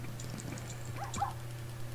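Dog in the video game Minecraft giving a few faint, short whimpering yelps around the middle, quiet against a steady low background hum.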